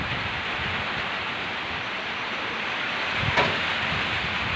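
Heavy rain lashes down in strong gusting wind in Malunda, Banua neighbourhood, a steady dense roar throughout with a slight swell near the end.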